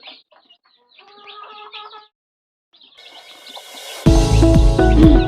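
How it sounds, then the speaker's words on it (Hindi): Desi village chickens on a small farm of ten to twenty hens, scattered soft clucks and chatter at first, then a loud close burst of clucking and squawking that fills the final seconds. "ये देखिए, मेरे एक छोटी सी मुर्गी का फार्म है।"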